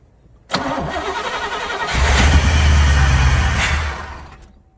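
A 1969 Chevrolet Chevelle SS engine cranks and catches after years unused, then settles into a loud, rough idle before fading as it is shut off, close by with no talk.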